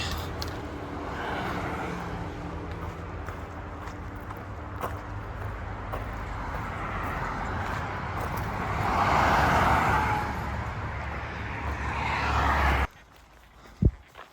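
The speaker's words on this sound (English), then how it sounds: "These road crossings are so noisy." Steady roar of road traffic passing close by at a road crossing on the Appalachian Trail in Pennsylvania, swelling as a vehicle goes past, then cutting off abruptly near the end.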